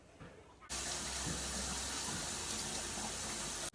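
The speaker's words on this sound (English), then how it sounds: "I'm gonna go wash my hands now." Water gushes from a tap into a sink during handwashing, starting abruptly after a brief quiet moment and pouring loud and steady, close by, for several seconds before cutting off.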